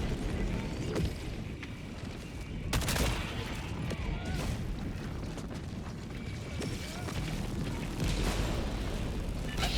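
Orbital strike explosions and gunfire rumble through a Helldivers 2 battle at an outpost, forming a dense, continuous barrage with sharp blasts spread across it.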